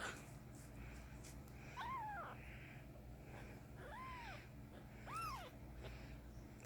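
A young bottle-fed kitten gives several soft, rising-and-falling mews spaced a second or two apart, close and fairly quiet over a low background hum.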